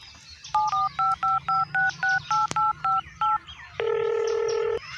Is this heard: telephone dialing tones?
yes